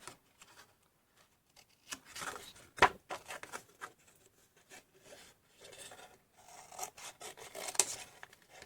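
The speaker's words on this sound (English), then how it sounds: "So what I am going to do is trim these back a little." Scissors trimming paper scraps for decorated journal pages: intermittent rasping snips and rustling paper, close and quiet, in irregular bursts without speech.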